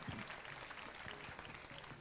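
An audience at a school annual function claps for prize-winning schoolchildren, giving a faint, distant, continuous patter of applause with a little background voice.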